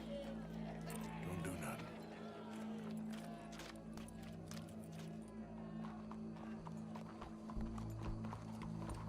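Horse hooves clip-clop on the ground in the video game Red Dead Redemption 2, an irregular run of hoofbeats under a steady low hum, with a voice speaking partway through.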